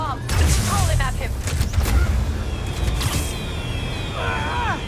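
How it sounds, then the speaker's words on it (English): Bomb blasts and combat noise in the video game Marvel's Spider-Man Remastered: loud booms and rattling impacts mixed with whooshing effects, and voices talk over the action. "I dropped the bomb."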